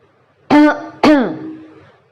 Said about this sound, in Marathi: तोच घसा खाकरल्याचा आवाज येतो